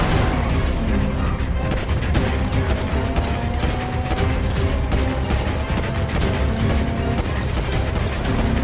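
Continuous gunfire crackles in rapid bursts over a dense, noisy battle soundscape with booms underneath, loud and sustained throughout, during a robbery in the video game GTA 5.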